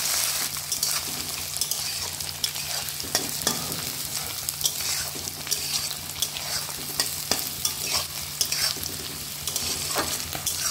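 Capsicum and green peas frying in oil in a kadai for Bengali fried rice, with a steady close sizzle and intermittent scraping clatter of a spatula stirring, no voices.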